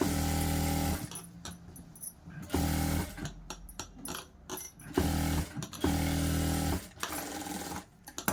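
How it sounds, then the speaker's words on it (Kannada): A domestic sewing machine stitches a blouse in several loud bursts of running motor and needle chatter, separated by brief pauses, close up with no voices. "ನಾನು ಅಲ್ಲೇ ನಿಮ್ಮ ಎದುರುಗಡೆ ಮಾತಾಡ್ತಾನೆ ಸ್ಟಿಚ್ ಮಾಡ್ತಾಯಿದ್ದೀನಿ"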